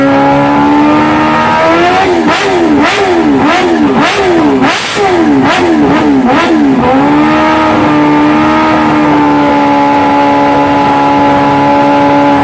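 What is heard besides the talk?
Kawasaki track-only motorcycle engine revving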